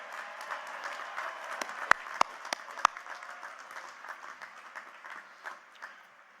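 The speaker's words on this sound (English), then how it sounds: "So let's give another big round of applause for Miss Yolanda Winze, Dr. Michael White, a" Light, scattered clapping from a commencement ceremony crowd for a university class of 2020, fairly quiet and distant, with a few sharp nearby claps standing out early on.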